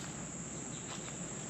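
A cicada buzzes continuously beside a hiking trail at a Missouri state park, a steady, fairly faint high-pitched drone with no talk.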